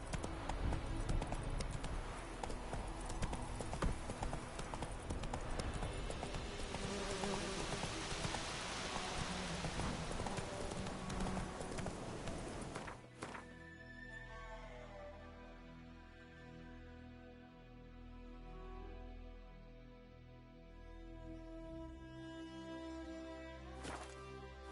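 Galloping horse hooves in The Witcher 3, a steady clip-clop rhythm running under a dense, noisy game soundscape that drops away sharply partway through, leaving quieter ambience.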